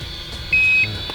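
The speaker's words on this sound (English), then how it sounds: "Well, just because I don't like the beep, I'm going to press and hold that button again." Holy Stone HS110D FPV drone's handheld transmitter gives one short, steady high-pitched beep lasting about a third of a second, clear and close over faint background hiss.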